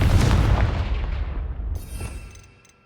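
Fire-blast spell in the Hogwarts Legacy video game, a single loud close boom with a rumbling explosive roar that fades over a few seconds.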